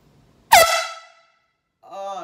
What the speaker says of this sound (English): this air horn, it's not a regular air horn. It's made for boats.